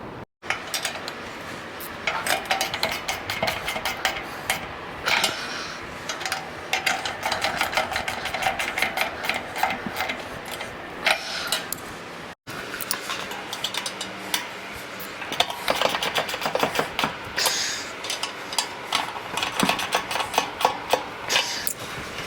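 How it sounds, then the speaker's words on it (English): Bolts with nylock nuts are tightened on an upTOP Overland Alpha or Bravo roof rack fitted to a Lexus GX 470, giving rapid, rhythmic ratcheting clicks in close bursts with short pauses between them. No talking is heard. "So now go set and tighten all 12 of those bolts."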